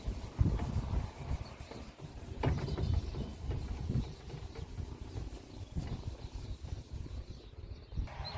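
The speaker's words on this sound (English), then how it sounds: "Just get a Scotch-Brite, a bit of water, and give it a good scrub" A Scotch-Brite pad with a little water scrubs soot off a Rocket Boil N Cook cooker in continuous, close, moderately loud rubbing strokes, with no talking.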